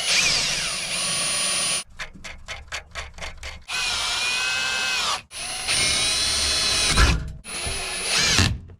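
Power drill drives screws into a wooden drawer top in a Land Rover Discovery, whirring in long bursts interrupted by short choppy trigger pulses and brief silences, close and loud.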